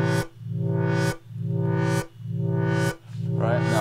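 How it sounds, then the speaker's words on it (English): Sawtooth synthesizer chord struck four times in a steady rhythm, each with a bright, buzzy attack and a lush reverb tail swelling between hits, loud and alone with no voices. "There, you can hear the effect on the chord."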